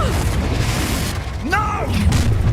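A Confringo fire spell blast in the Hogwarts Legacy video game lands as a booming burst with a whooshing sweep, set against a busy combat soundscape.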